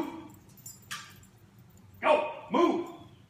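Dogs indoors give two loud, close barks in quick succession near the end, after a quieter stretch with a faint earlier yip.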